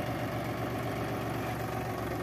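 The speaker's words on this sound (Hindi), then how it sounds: "उसके लिए हम ट्रैक्टर से इसको उठा के बताते हैं।" A tractor engine runs at a steady, loud idle with deep low rumble and vibration while a seed drill is lifted on a farm field before chickpea sowing, with no one talking.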